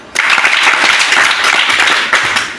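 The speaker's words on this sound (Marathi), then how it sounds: "टाळी वाजवा." A classroom audience of children claps together after a recitation of devotional hari verses, a dense, steady burst of many hands that rises sharply, holds for about two seconds and briefly swells again near the end.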